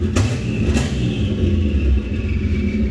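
A Toyota Cressida with a turbocharged V12 swap skidding, its engine revving with a loud, close, rumbling roar that stays heavy and continuous, with two sharp bursts early on.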